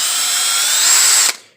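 A power drill bores steadily through a spent force-on-force training ammunition case, a loud continuous whine with rising pitch for over a second before cutting off abruptly and trailing away.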